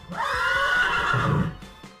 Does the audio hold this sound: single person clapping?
no